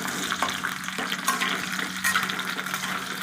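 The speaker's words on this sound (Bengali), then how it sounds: "আমি কেটে রাখা পটলের টুকরোগুলো এর মধ্যে দিয়ে দিলাম, দিয়ে খুব লাল লাল করে কিন্তু ভেজে নেব।" Pieces of pointed gourd frying in oil in a pan for a vegetarian potato and pumpkin dish, a close, continuous sizzle with occasional spoon scrapes and stirring knocks, and no speech.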